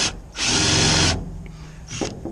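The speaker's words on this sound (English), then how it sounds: "I'm going to use a spade bit to drill the wood." An electric power drill fitted with a spade bit bores into wood, a loud, steady high whine lasting under a second, then winding down, followed by a brief lighter whir, close up and alone.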